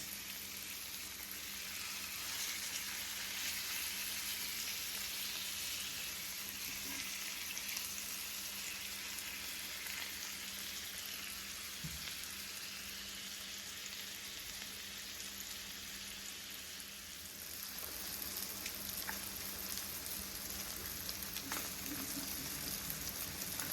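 Honey lemon pepper salmon frying in a pan, a steady, even sizzle that crackles like light rain and runs unbroken and fairly close, with no voices.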